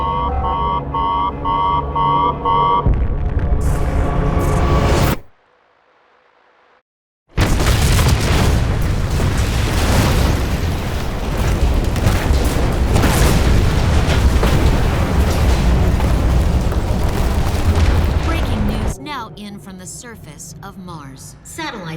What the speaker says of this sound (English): have detected an explosion in the area known as the Cupid Plateau